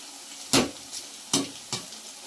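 Cauliflower for gobi 65, coated in paste, sizzles quietly in a pan while a spoon scrapes through it in three sharp strokes spaced unevenly. The sound is close, with no speech.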